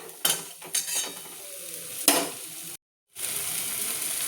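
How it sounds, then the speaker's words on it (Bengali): Sajna (drumstick) flower malaikari being stirred in a pan, a spatula scraping through the sizzling mixture in a few distinct strokes over a steady fry hiss, with a brief silent gap near the end. "ভালো করে নাড়াচাড়া করে নেব"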